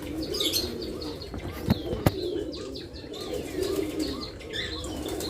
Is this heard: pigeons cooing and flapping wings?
yes